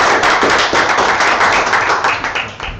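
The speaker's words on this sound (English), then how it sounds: "Give Elise a round of applause." Colleagues at a team meeting give a round of applause, a dense, steady patter of many hands clapping at close range for a few seconds.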